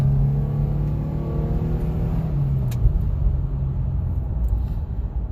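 A 2007 Nissan Xterra with a 5-speed manual being driven. Its engine gives a steady, close drone, and the pitch eases lower partway through as the revs drop, over constant road rumble.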